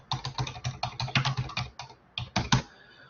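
Rapid bursts of typing on a computer keyboard, close and crisp, with clusters of key clicks broken by short pauses and no talking.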